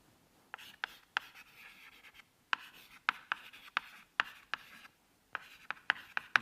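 Writing on a board during a lecture makes sharp tapping and scraping strokes in irregular bursts separated by pauses, heard alone at moderate loudness.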